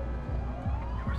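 Ambient police sirens in a police video game wail with a rising electronic sweep over a low rumble, brief and fairly loud, with no voices.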